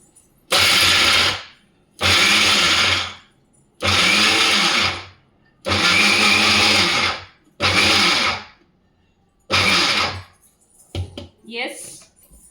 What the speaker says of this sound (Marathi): आता हे मिक्सरला लावूयात आणि चालू बंद मिक्सर करत ही पण चटणी आपल्याला व्यवस्थित तयार करून घ्यायची आहे